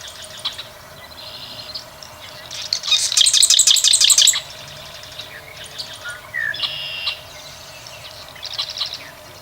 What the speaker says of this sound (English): So this is the marsh wren.